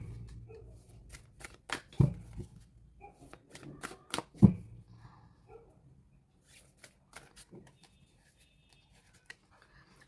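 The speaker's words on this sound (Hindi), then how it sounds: "ये पाइल 1 के लिए हम कार्ड रखने जा रहे हैं और पाइल 2 के लिए" Tarot cards shuffled and laid out into piles, with quick papery riffles and flicks, soft taps as cards land on a surface, then sparse quiet handling, close and intimate.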